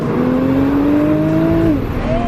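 A Nissan GT-R accelerating hard through first and second gear, loud and close, with engine pitch rising steadily then dropping briefly at a gear change before climbing again.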